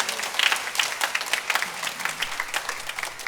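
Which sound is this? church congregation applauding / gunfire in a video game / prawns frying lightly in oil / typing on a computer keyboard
church congregation applauding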